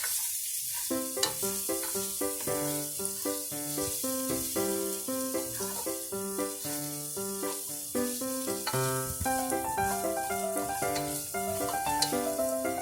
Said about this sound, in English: It's gonna make that sizzling noise.